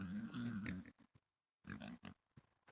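Pigs on a farm give close, low grunts and snorts in short bursts, a steady run at first, then a brief quiet gap before more scattered grunts.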